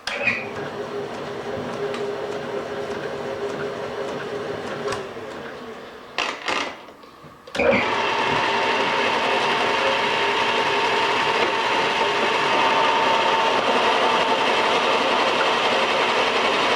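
A metal lathe built in April 1948 hums steadily with a faint grinding whine, briefly stopping and restarting partway through before running on evenly.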